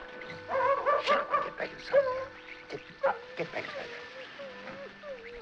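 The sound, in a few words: dog barking in the movie The Blob (1958)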